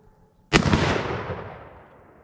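A single sharp rifle shot from a 6.5x52 Carcano 91 TS carbine cracks loudly outdoors after a brief quiet moment, followed by a long rolling echo that fades over about two seconds.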